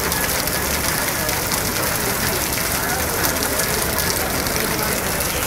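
Steady broadband hiss of rain falling on arrival in Trivandrum, India, a continuous wash of drops on surfaces with no breaks, fairly loud and close throughout.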